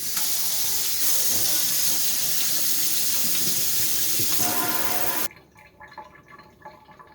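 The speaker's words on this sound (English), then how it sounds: "so we're going to rinse this off and see what it looks like" Water runs in a steady, loud hissing stream while a soaked Mora knife blade is rinsed. After about five seconds it stops abruptly, leaving only faint handling noises.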